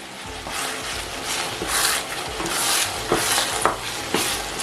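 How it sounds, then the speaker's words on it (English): Nigerian ayamase green stew with crayfish is stirred in a pot, with close, wet scraping and churning strokes in an uneven rhythm over a steady frying hiss. "And now I'm just going to stir everything together."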